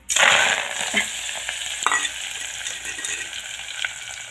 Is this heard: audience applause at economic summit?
no